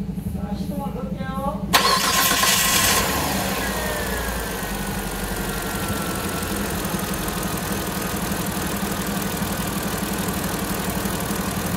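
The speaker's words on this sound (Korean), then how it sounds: "시동을 걸어서 확인 한번 해볼게요" A car engine cranks briefly and catches, then settles into a steady idle after its fan belt was refitted and its slipped timing belt adjusted; the start is short and loud, followed by an even running drone.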